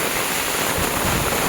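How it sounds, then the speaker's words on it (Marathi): Heavy monsoon rainwater rushing and flowing in a Kokan village, a loud, steady broadband roar with no pauses and no voices. "पाणी बघा, नुसतं पाणीच पाणी आहे."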